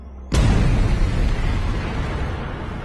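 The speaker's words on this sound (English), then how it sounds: "What Baade was referring to was an explosion of simply cosmic scale." A sudden, loud boom for an exploding star at the end of its life bursts in after a brief quiet lead-in, then rolls on as a deep, rumbling roar that slowly fades.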